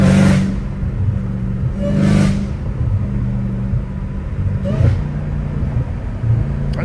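A straight-piped Dodge Challenger Hellcat Redeye rumbles close by with short throttle bursts at the start, around two seconds and near five seconds, each rising briefly above a constant deep idle drone.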